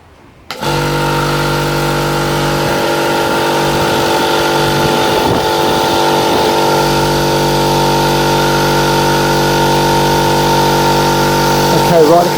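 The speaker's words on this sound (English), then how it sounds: "the compressor's just pumping up now, filling the tank up" An air compressor runs steadily and loudly, pumping air to fill its tank, with a constant droning hum and motor whine lasting throughout after a brief start-up.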